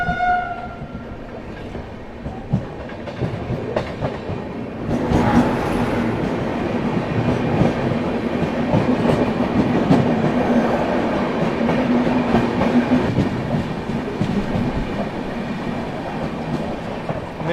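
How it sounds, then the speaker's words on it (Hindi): Meerut City–Subedarganj Sangam Express train passing a level crossing, loud and close with a sustained rumble of wheels and cars clattering by, a horn-like tone near the start, rolling steadily throughout. "ये आ गई दोस्तों मेरठ सिटी सूबेदारगंज संगम एक्सप्रेस"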